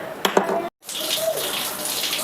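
Water poured onto heated Healux cookware produces a sharp sizzle followed by a steady, close hissing and bubbling wash after a brief break in the sound.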